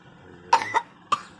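Three sharp coughs from a person nearby, two close together and then a third a moment later, standing out clearly against a quiet background.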